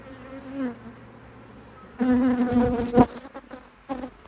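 Honey bees buzz around an open hive during an early spring inspection in swarming season, a low drone that swells loudly and close after a quieter start, with fluttering passes.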